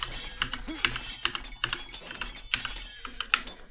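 Computer keyboard hotkey presses while playing Age of Empires 2, a quick, uneven run of close clicking keystrokes with occasional harder taps.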